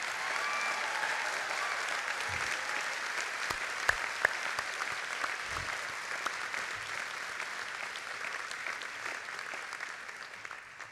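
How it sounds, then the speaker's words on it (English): Graduates at a School of Medicine commencement ceremony give a round of applause. Sustained clapping from a large crowd continues steadily throughout, heard from a moderate distance. "Let's start with giving yourselves and me a round of applause"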